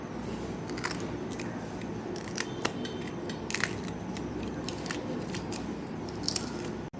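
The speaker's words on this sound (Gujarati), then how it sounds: "અહીં આપણે લસણ ખાંડણીની અંદર ઉમેરી દઈશું" Garlic and red chili being pounded in a mortar for a Kathiyawadi garlic chutney, a steady run of close crunching and grinding strikes with sharp clacks of the pestle against the mortar.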